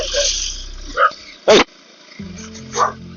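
Dogs beside a road bark in several short, loud bursts with some growling, heard near a rider on a KTM 390 Adventure motorcycle.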